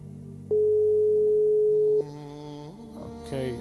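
Telephone line tones on a live call-in broadcast: a loud steady beep holds for about a second and a half, then quieter pitched tones and brief blips follow over a low background hum.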